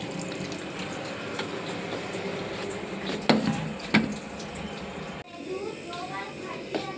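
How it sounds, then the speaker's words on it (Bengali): Filtered water goes into a pot of boiled peas, a steady trickling pour with a couple of sharper splashes in the middle, then a quieter stretch where someone speaks. "তার জন্য ফিল্টার থেকে জল দিয়ে দিলাম।"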